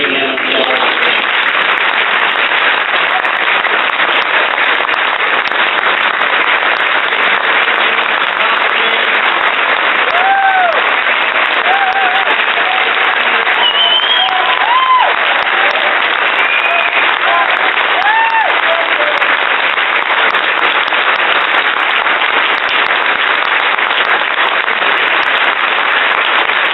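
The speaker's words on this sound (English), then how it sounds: "So please join me in giving him applause." Sustained audience applause at a Lincoln Day Dinner, a loud, dense wash of clapping from a large crowd filling the room without a break, with faint voices and cheers mixed in.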